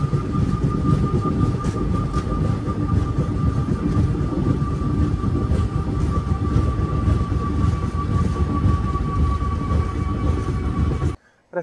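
Kacheguda Guntur Express train running near Munamaka station on a scenic route through the Nallamala Forest: a steady, loud rumble of rolling coaches with a sustained tonal whine, continuous and unbroken before cutting off abruptly at the end.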